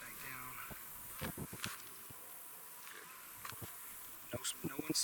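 Honeybees in an opened hive hum in a soft, steady drone, with close buzzing bursts and light clicks from handling the frames.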